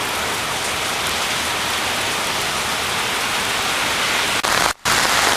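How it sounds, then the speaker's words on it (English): Heavy rain falls in a steady, loud, dense hiss that continues almost unbroken, with a brief dropout near the end. "It's really raining right now."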